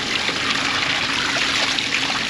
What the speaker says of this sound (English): You don't see a tree with water coming out of the bottom of it every day.